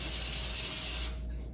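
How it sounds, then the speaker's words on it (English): Olive oil sprayed onto rice from a spray bottle, one steady close hiss lasting about a second before cutting off into quiet room tone. "just spray it with a little bit of olive oil"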